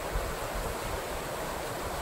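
A creek flowing through woods, a soft, steady wash of running water, faint and even with no distinct splashes.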